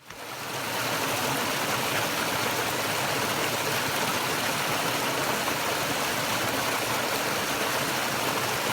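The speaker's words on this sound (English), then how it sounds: "it's kind of transitioned over to moving water, and I believe that's going to be the stream at Painter Branch." Mountain stream of moving water at Painter Branch on the Appalachian Trail, a steady broadband rush that swells in over the first second and then holds loud and constant, with no voices.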